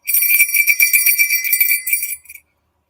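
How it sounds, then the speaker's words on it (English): A small thrifted bear bell, a hiking bell meant to warn off bears, jingles continuously with bright metallic tinkling that comes through close and fairly loud, shaken rapidly for about two seconds before stopping abruptly. "that is a bear bell"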